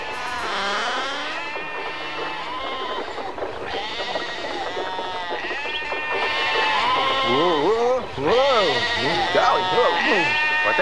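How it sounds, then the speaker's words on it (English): Several sheep bleating over and over, wavering cries overlapping and growing busier toward the end, against a low outdoor background. "there are too many sheep."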